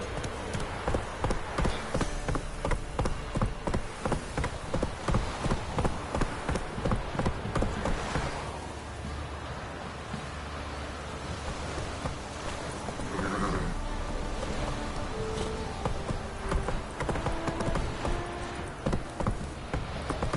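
Hooves clip-clop in a quick, regular rhythm on hard ground for the first several seconds, then the sound gives way to rustling and movement noise.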